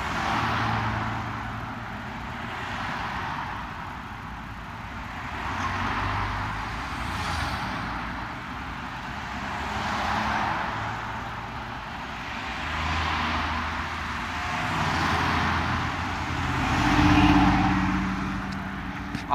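Cars pass by on a road in Santa Barbara, California, a steady traffic rumble swelling and fading in repeated waves as vehicles go past one after another.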